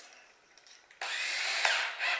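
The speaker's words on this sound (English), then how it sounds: "I got a quarter inch drill bit" A power drill fitted with a quarter inch bit bores into a plastic bucket, starting with a faint whir and then surging into a loud, steady high-pitched grinding whine for the last second, with no talking.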